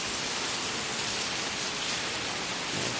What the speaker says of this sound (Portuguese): Está um pouco meio chuvoso hoje, aliás, chovendo bastante.